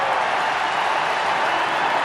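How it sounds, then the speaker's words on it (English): A baseball stadium crowd roars after a player completes the cycle, a loud, continuous wash of cheering and applause from thousands of fans that holds steady without pause. "And listen to this crowd."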